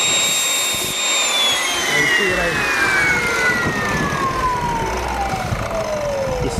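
A power saw shaves the edge of a 2x4, its high whine sliding steadily downward in pitch as the blade works along the wood, loud and continuous over a low rumble.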